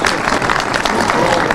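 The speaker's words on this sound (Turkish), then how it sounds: "Digorlar, Bacalılar deyince alkış biraz az çıktı" Applause from a crowd gathered in Bacalı village, Digor, a dense, loud wash of clapping that continues evenly throughout.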